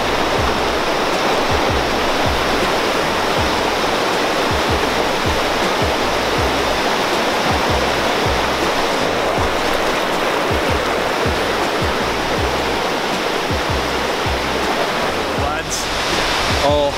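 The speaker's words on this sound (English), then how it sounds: "we made it to the waterfall at the bottom of the hike here" Waterfall at the bottom of a hiking trail, a loud, constant rushing roar of falling water close by, with faint voices beneath it.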